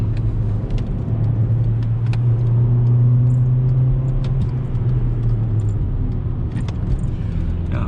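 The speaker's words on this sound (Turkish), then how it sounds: "Araba dediğim gibi atmosferik olduğu için 3500'den sonra iyi gidiyor." A naturally aspirated VW Jetta engine drones steadily from inside the car, a low continuous hum holding a near-even pitch throughout, with a few faint rattles over it.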